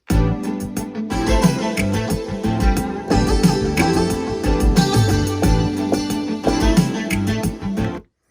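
Bosphorus instrument patch played on an Akai MPC: a dense, continuous melodic phrase with rich harmonics and steady rhythmic hits, loud and close, alone without talk, ending abruptly.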